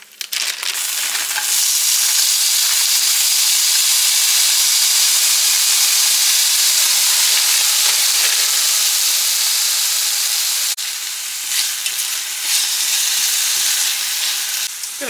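Chopped sausage with peppers and onions frying in a pan, a loud steady sizzle and hiss that holds without a break throughout, with a brief stir or shift partway through and no talking.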